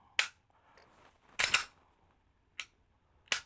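Dry-fire trigger clicks and handling of a Smith & Wesson M&P Shield pistol, four sharp, close metallic snaps spaced irregularly over a quiet background, with a faint rattle between them.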